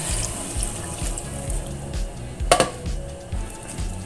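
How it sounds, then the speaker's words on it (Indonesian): Water runs from a tap into a pot while making a clear corn soup, a steady close splash in a kitchen with a brief louder burst partway through. "setelah beberapa saat, lalu kemudian tambahkan air"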